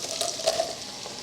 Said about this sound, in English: we've just got our garlic frying nicely